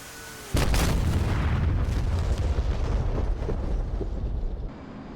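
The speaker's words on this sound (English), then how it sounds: "Huge explosion. Oh, that's massive." Laser-guided bomb dropped from an F/A-18 Hornet in DCS World hits its target with one sudden, loud boom, followed by a long rumbling, crackling decay that fades over several seconds.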